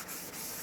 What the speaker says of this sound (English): Give it a quick wipe.